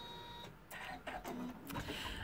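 An embroidery machine stitches through thick felt while making a felt box, giving a close, steady mechanical whirring with rapid rhythmic needle clatter and a few sharper bursts, with no voices.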